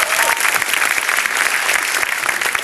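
Loud, dense studio audience applause at a stand-up comedy anniversary show, continuous clapping from a large crowd filling the whole short stretch.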